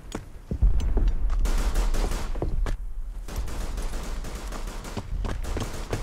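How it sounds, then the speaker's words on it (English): Continuous mortar fire landing on a front sniper nest in the WW1 trench warfare game Verdun, heavy booms and bursts rolling one after another, loud and low over steady battlefield noise. "they're just laying continual mortar fire onto it"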